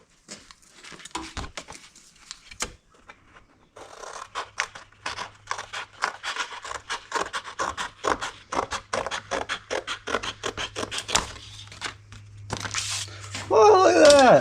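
Sheet metal being cut by hand for a home-made patch panel, a long run of close, rapid snipping and scraping strokes with a steady low hum underneath, ending in a louder burst.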